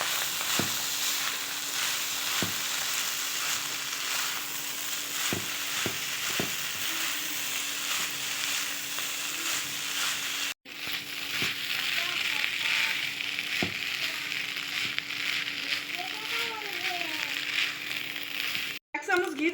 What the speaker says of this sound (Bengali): পালং শাক বাটা দিয়ে দেবো ভালো করে মিশিয়ে নেবো